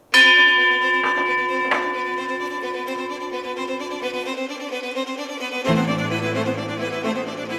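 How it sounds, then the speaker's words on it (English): A bell is struck once and rings out loud and close with a long, shimmering metallic tone that decays slowly, and a second strike near the end sets off a fresh, lower ring. "Ring the bell."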